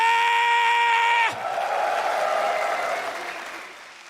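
An excited European crowd roars and cheers at the Rainbow Six Siege Berlin Major esports semifinals, a loud sustained wave of applause and yelling opening over a ringing tone, then gradually fading.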